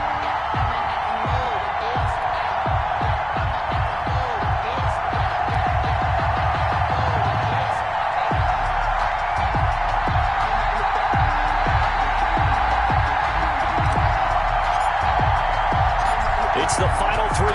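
Stadium crowd at FedEx Field in a PS4 football video game, with the home side facing the Seattle Seahawks. A steady, dense roar of crowd noise runs throughout, with a pulsing low thump in the first half.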